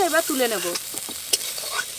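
Big soya chunks fry in a little oil in a kadai as they are stirred, giving a soft steady sizzle with scraping and clinks; a voice talks briefly at the start.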